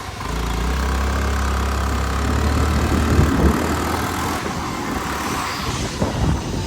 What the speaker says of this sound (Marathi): गाडी चालवते.